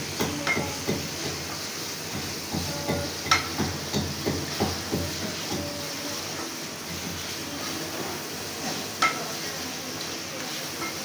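Chicken fries in a pan with a steady, hissing sizzle, while a utensil stirs it in a regular rhythm of soft scraping strokes nearby.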